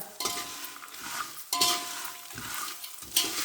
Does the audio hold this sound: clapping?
no